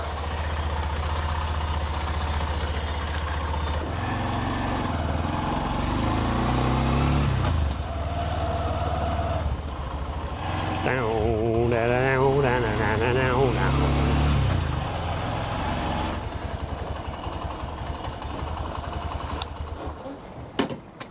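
A Honda CB125F motorcycle with 106,000 miles idles steadily after a new chain and sprockets are fitted, a low continuous engine rumble running through the whole stretch with voices talking over it.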